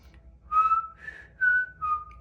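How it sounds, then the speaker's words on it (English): A person whistles a few wavering tones up close, short notes separated by breathy gaps, somewhat shaky and uneven. "I can't even whistle. I was gonna try to do the whistle."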